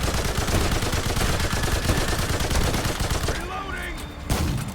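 Sustained rapid gunfire in the Remnant 2 video game, dense overlapping shots filling most of the stretch before easing off near the end, loud and close.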